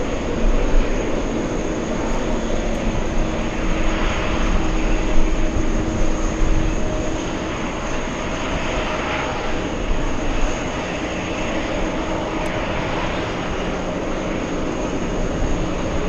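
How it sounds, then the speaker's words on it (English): Jet airliners at JFK airport make a continuous, loud engine roar and rumble that holds steady throughout, with a constant whine over the low drone and no voices. "Big American Airlines 777 flying in from Milan."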